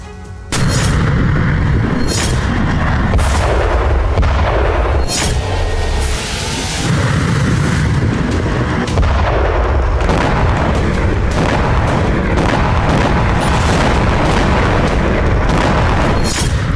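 Heavy booms from a hypersonic missile test launch roll on as a loud, sustained rumble with repeated sharp blasts and crackling bursts, all close and overwhelming.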